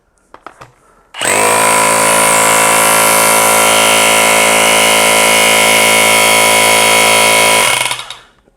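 A Hilti Nuron TE 30-22 cordless rotary hammer runs in chiseling mode, a loud sustained mechanical roar with rapid hammering buzz lasting about seven seconds, starting sharply after a few faint knocks and stopping at the end.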